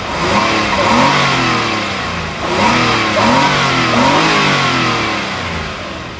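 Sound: six-cylinder sedan engine revving

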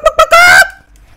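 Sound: chicken sound after player turns into chicken in Black Ops 4 video game

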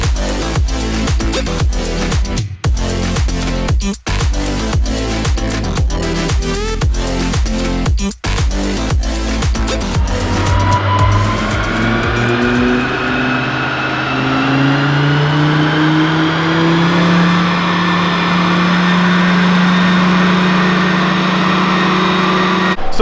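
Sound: Volvo V70R engine revving on a dyno

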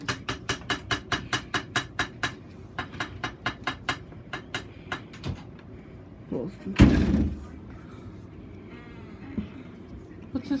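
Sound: door being closed

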